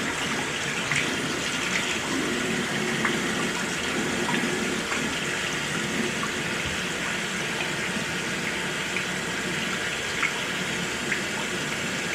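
Running water pours steadily from a tap while makeup brushes are washed under it. The splashing and gushing are continuous and close, with faint clicks and knocks now and then and no talking.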